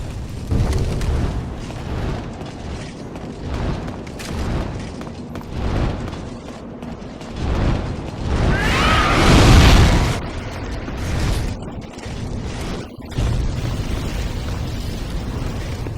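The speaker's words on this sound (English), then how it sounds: "now he breathes fire" Dragon breathing fire in Demon's Souls, a roaring, swelling blast that builds to a loud peak and then subsides, set against a dense rumbling game soundscape with no talk.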